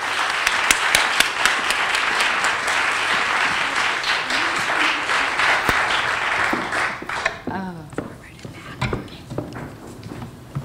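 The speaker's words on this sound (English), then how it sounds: "so we're going to clap and make loud noises anyway" Audience at a live event at Bank Street College clapping loudly for about seven seconds, dense steady applause that then tapers into scattered claps and murmuring voices.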